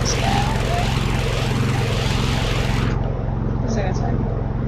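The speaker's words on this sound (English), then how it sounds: "This is my favorite plane." A propeller airplane engine in the Stormworks video game drones loudly and steadily throughout, a continuous close hum that muffles partway through.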